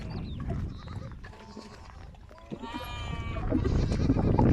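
Lambs, sheep and small goats bleating near a flowing outdoor water fountain in the countryside, several high wavering calls overlapping at close range amid shuffling and movement.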